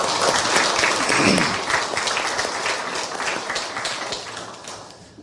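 A chapel congregation at Hanyang University applauds a choir and orchestra after a hymn arrangement. The dense, even clapping fills the room and slowly fades toward the end.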